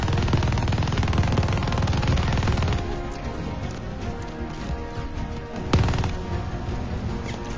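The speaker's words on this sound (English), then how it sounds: "They keep shooting at me." Rapid automatic gunfire rattles in Call of Duty: Vanguard combat, loud dense bursts in the opening seconds, then more scattered shots and distant firing with one sharp louder crack partway through.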